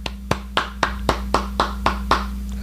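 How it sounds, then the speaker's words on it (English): A single person claps eight times in a slow, steady rhythm, each sharp clap close and distinct over a low steady hum, with no talking. "Might have to give a little round of applause for that"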